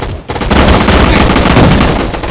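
Rapid gunfire from a gun in the Roblox video game, a loud, dense burst of shots firing continuously after a brief pause at the start.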